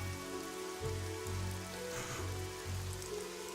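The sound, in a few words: rain falling in the Evoland II video game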